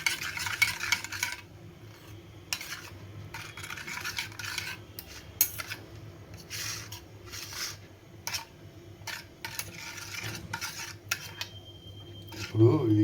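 Spoon stirring fenugreek powder into a thin orange karam mixture, producing intermittent scraping and clinking strokes against a metal bowl at close range, with a steady low hum underneath and no talk.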